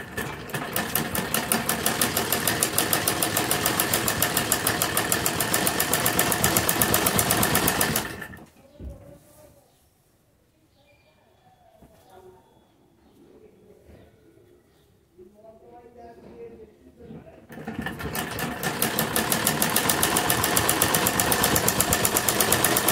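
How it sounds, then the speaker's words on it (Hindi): Sewing machine stitching palazzo pant fabric, a loud, close, steady rapid whirring run that stops for a quiet stretch of fabric handling and soft talk, then starts again at full speed. "इस तरह से इक्वल रखकर हम इसके ऊपर सिलाई लगाएंगे।"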